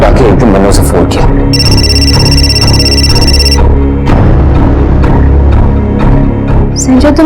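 A telephone rings with a steady electronic tone for about two seconds, sitting over dramatic music and low thuds.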